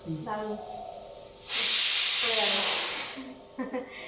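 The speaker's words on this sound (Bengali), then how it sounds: "শুধু প্রেশার কুকারে সেদ্ধ তো হচ্ছে" A pressure cooker whistle releases steam in a loud, steady hiss of about two seconds, rising sharply and tapering off, with quiet voices heard before and after in a home kitchen.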